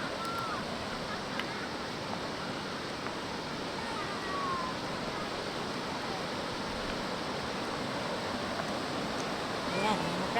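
River water at Batok Creek in Oriental Mindoro rushes in a dense, steady broadband roar, constant and fairly close, with faint voices barely audible beneath it.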